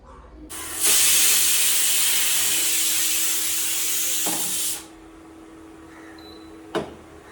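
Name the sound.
pressure cooker hissing and whistling with steam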